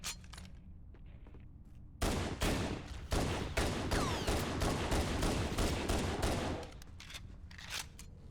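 Rapid automatic gunfire in Halo: Combat Evolved, a loud sustained burst of shots for several seconds with single shots before and after.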